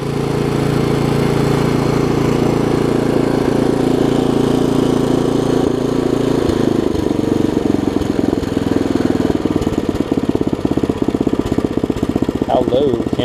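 A Craftsman tiller's 5 hp Briggs & Stratton engine runs steadily and loudly nearby, then its low throbbing grows rougher and more uneven toward the end.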